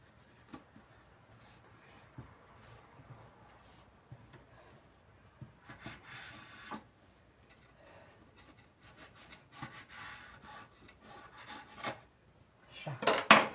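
A knife saws slowly through a homemade Rumba cake, giving soft scraping and rubbing strokes with occasional light taps on the plate, quiet and close, growing busier toward the end.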